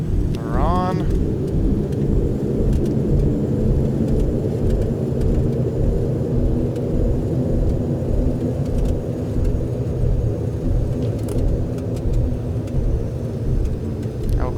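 Loud, steady engine roar of a Dash 8 turboprop with thrust reversers engaged after landing in a flight simulator, a continuous low rumbling drone with brief chirps at the start.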